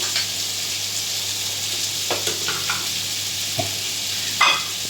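Ridge gourd frying with salt in a pan, a continuous close sizzle with occasional light stirring clicks and scrapes, no speech.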